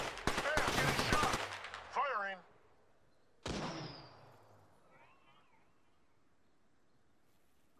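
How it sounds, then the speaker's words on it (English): Gunfire in the video game Apex Legends: a loud rapid burst of automatic shots, then a single sharp shot a moment later with a short ringing tail, with brief game voice sounds between. "Getting shot! Firing!"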